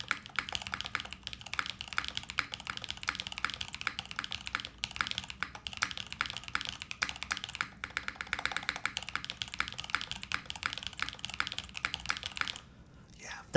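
Fast, steady typing on an Iron160 mechanical keyboard fitted with an ABS spacebar, crisp close-up clacks in a continuous rhythm, with occasional deeper spacebar thuds, stopping briefly near the end.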